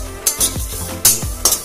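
Whole spices fry in a pan for a Bengali mango chutney while a spoon stirs them, giving several scraping strokes with metallic clinks over a soft sizzle, close and without talking.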